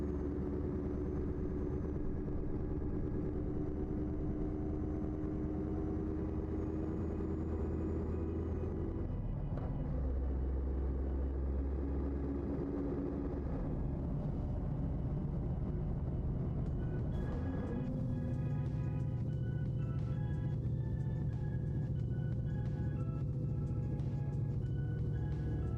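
A worn, high-mileage truck engine from a Euro Truck Simulator 2 mod rumbles steadily, its low drone shifting pitch around midway and again later as it keeps running.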